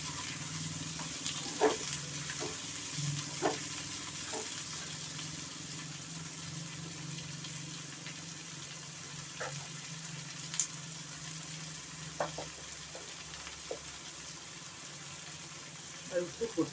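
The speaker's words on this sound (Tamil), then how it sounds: "வெங்காயம் நல்லா வதங்கணும்." Onion sautéing in a pan for a drumstick curry, a faint steady low sizzle under a background hum, broken by occasional soft clinks and stirring taps.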